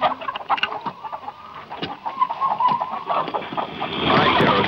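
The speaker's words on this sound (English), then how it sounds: "I'm just going to feed the chickens." Hens clucking and chattering on a farm in a 1955 film scene, with several birds calling close by in uneven bursts over a busy background that swells louder near the end.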